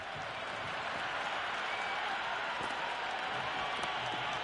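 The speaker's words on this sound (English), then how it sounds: "It's evident and ever so audible that the crowd is at near bursting point at today's play." Steady roar of a large cricket stadium crowd during a Pakistan vs India one-day international in Rawalpindi, a dense continuous wash of massed voices and applause, loud and unbroken throughout.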